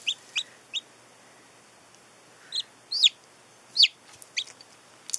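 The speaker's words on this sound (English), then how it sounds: "Here's chick number one." A newly hatched baby chick under a heat lamp gives thin, high peeps in short bursts, close and clear over a quiet background with no talking.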